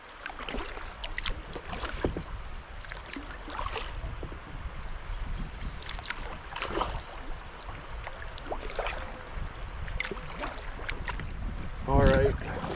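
Kayak paddling on Sugar Creek through Turkey Run State Park: soft, repeated paddle strokes and splashes at an easy rhythm over a background of wind and moving water.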